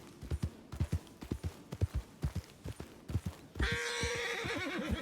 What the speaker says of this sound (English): Oh, the horse is not happy about something.